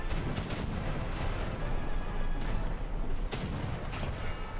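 Cannons on pirate ships in the War Thunder video game fire heavy booms over a dense, continuous battle rumble. Several blasts stand out above the rest, loud and close.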